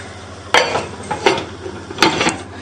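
A lid goes onto a pot of lamb tagine, with a few close metallic clatters and scrapes spaced over a couple of seconds.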